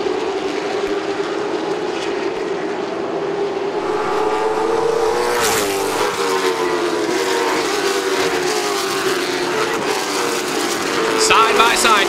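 Late model stock cars racing side by side at Southern National Motorsports Park, a loud sustained engine roar with rising and falling pitch as the cars pass, while an announcer talks over it.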